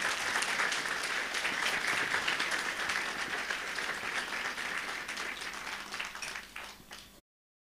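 A church congregation at a special worship service applauds to welcome a visiting pastor from South Korea, a full, sustained round of clapping that gradually thins and fades before stopping abruptly.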